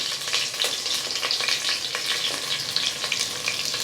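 Whole spices frying and being stirred in a pressure cooker give a steady, close sizzle with scraping strokes throughout, and no voices.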